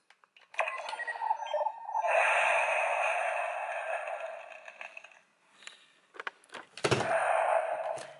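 A Dino Knight Morpher toy plays an electronic fire-attack effect, a crackling, roaring burst that holds for a few seconds, fades, then flares again after a couple of sharp clicks, with no talk.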